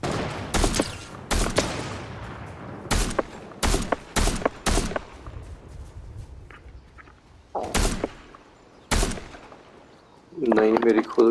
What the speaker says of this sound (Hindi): तो ये है जिसने मेरे पे गोली चलाई थी।